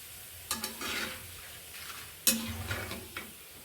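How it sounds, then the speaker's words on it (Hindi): A katri snack frying in hot oil, a soft continuous sizzle with a few sharp clicks and stirring scrapes, close but quiet. "अभी हम इसमें एक कातरी फ्राई करेंगे।"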